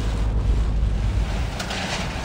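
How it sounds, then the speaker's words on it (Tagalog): Strong typhoon wind roars and buffets the microphone in northern Luzon, with a dense low rumble of heavy downpour, continuous and loud throughout. "ganito kalakas yung buhos ng ulan at hangin"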